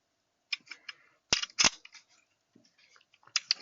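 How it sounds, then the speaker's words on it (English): Pistol function check with a snap cap: a few sharp metallic clicks and snaps of the trigger and hammer dropping, close and crisp, separated by quiet handling noises. "squeeze trigger, no action, fire, drop the hammer, pin the trigger to the rear"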